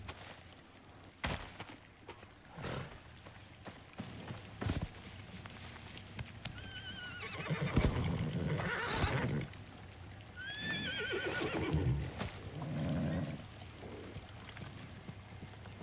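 Horse whinnies and neighs from a horse in the video game Icarus, several rising calls in the middle section, with scattered clip-clop hoof steps and thumps around them at moderate loudness.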